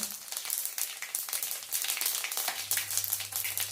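Mustard seeds and cumin sizzling in hot oil in an Indian kitchen pan: steady close crackling and popping with a bright hiss, fairly quiet, no talking.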